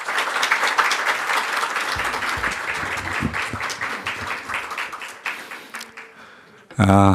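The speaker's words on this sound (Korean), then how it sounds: "큰 박수로 환영해 주시기 바랍니다." Loud, sustained applause from a crowd at an academic award ceremony, a dense wash of clapping that gradually thins before a sudden different sound at the end.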